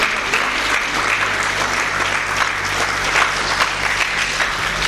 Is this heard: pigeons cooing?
no